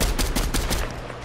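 Rapid automatic gunfire from a Fortnite match, a close, loud burst of evenly spaced shots lasting about a second with no talking.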